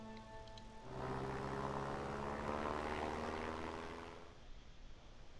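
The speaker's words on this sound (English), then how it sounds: "British fighter pilot George Brown intercepts an enemy reconnaissance plane crossing the lines" A WWI propeller plane flies past in Sid Meier's Ace Patrol, its droning engine swelling in from faint to a steady, moderately loud hum for a few seconds, then fading away again.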